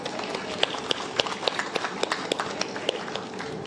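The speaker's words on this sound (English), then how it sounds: "Please give them a round of applause." Audience at a royal presentation of colours in Papua New Guinea gives a steady round of applause, dense overlapping clapping with sharp individual claps standing out, sustained throughout at moderate distance.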